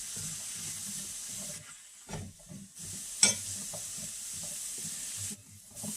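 Food sizzling in hot oil and stirred around a pan, a soft, continuous hiss broken by a few scraping stirs and one sharp clink, fairly quiet overall, with no talking.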